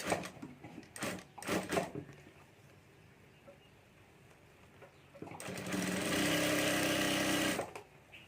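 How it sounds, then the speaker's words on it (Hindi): A sewing machine stitching a fabric strip onto piping for a homemade handbag, with handling clatter and rustling first, then a steady, close whirring run of several seconds that stops abruptly. "यहाँ ऊपर हमें सिलाई करके ये पट्टी लगा देनी है"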